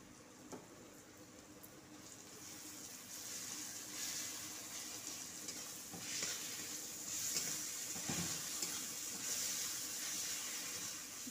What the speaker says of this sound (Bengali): পেঁয়াজ নরম হয়ে গেছে, এবার দিয়ে দিচ্ছি গ্রেট করে রাখা রসুন।